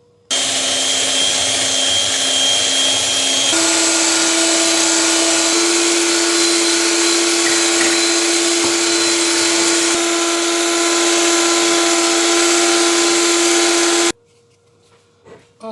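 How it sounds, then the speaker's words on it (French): An electric mixer beats cake batter for a bûche de Noël, a loud steady motor whine held for about fourteen seconds. The pitch steps up slightly a few times before the mixer cuts off abruptly. "On va battre."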